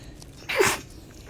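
A single sharp sneeze bursts out close by, brief and loud against a quiet background.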